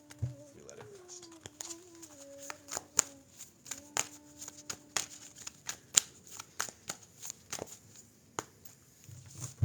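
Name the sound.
tarot cards being cut and shuffled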